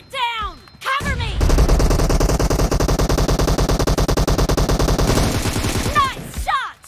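Sustained automatic gunfire in PUBG Mobile, a loud, rapid, even stream of shots lasting several seconds, bracketed by short bursts of game voice chatter.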